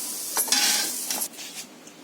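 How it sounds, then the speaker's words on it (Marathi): Roasted masala scraped and scooped from a hot pan with a spoon, a few soft scraping strokes with faint sizzle, close and quiet, no talk. "आता हा मसाला मी काढून घेते"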